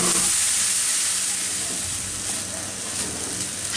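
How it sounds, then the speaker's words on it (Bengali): Vegetables with green chilli fry in a pan with a dense, steady sizzle and hiss close up, fading slightly as the stirring eases. "এখন এটাকে আমি ভালো মতো ভেজে নিই।"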